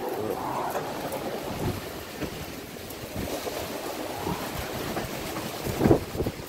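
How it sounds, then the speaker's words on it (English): Strong, gusty wind buffets the microphone in a steady roar with a little light rain, rising and falling over several seconds with no voices. "It's like raining a little bit, but it's really windy."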